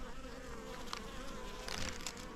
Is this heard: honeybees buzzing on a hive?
yes